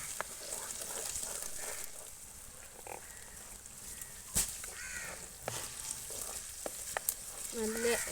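Green chillies frying in oil in a pan while making kerala curry: a faint, steady sizzle with scattered crackles and pops from stirring, plus soft clatter, with no one talking.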